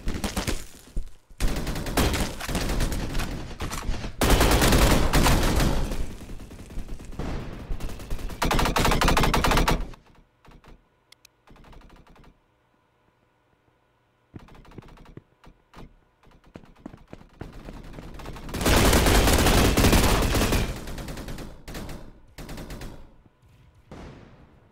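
Automatic gunfire in the Roblox shooter Energy Assault, including a PKM machine gun, rattling in loud sustained bursts that stop and start, with a quieter stretch of scattered clicks and shots in the middle.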